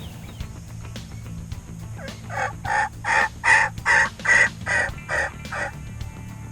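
Wild turkeys gobbling on a spring morning in Indiana woods, a run of about eight loud, rapid gobble bursts in close succession over a steady low background hum, with no talking.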